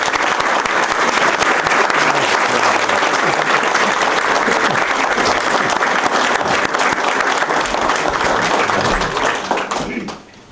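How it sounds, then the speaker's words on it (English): A loud, hearty round of applause from an evening lecture audience after a talk on the Battle of Midway, dense and continuous for about ten seconds before tapering off at the end. "may we have a very hearty round of applause for our speaker this evening."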